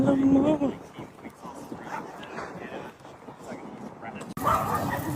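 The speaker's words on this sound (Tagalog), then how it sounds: "ang daming mga aso" Dogs bark and yip repeatedly nearby, several at once, mixed with people talking over them.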